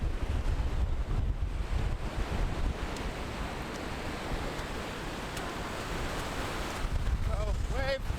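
Pacific Ocean surf breaking on the shore, a steady broad wash of waves with wind buffeting the microphone, growing louder near the end as a wave rushes in, with a brief voice.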